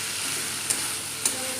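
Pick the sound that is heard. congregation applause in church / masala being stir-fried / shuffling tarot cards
masala being stir-fried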